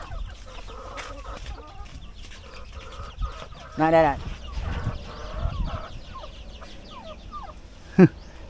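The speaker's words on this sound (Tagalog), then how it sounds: "Nagwawala na yung tandang natin guys kasi nakakita ng 3 inahin" A rooster calls and clucks excitedly near three hens, with sharp squawks and a loud cry standing out among scattered clucking while people talk quietly nearby.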